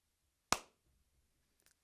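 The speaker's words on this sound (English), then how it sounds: "We'll have a sync clap." A single sharp hand clap marks sync for a recording session, loud and isolated against near silence, with a faint small tap or two trailing later.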